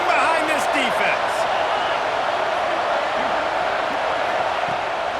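Stadium crowd roaring steadily throughout a college football video game, a dense continuous cheer with occasional whoops, heard under a play-by-play announcer's commentary.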